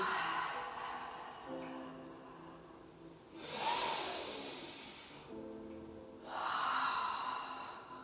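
Slow, deep breaths during a gentle yoga flow, each long airy inhale or exhale swelling and fading in turn, soft and close against a faint steady hum.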